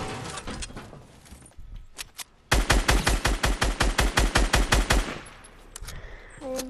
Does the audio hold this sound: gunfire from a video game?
yes